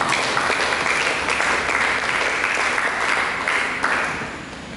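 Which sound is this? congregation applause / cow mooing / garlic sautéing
congregation applause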